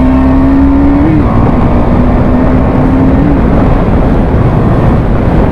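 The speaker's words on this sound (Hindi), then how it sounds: "ये अभी आपने देखा भाई, हमने बाइक को ऑलमोस्ट 100 तक क्लॉक किया" A motorcycle ridden at almost 100 gives a loud, steady roar of engine and wind, with a faint engine tone that holds and shifts slightly, and no voices.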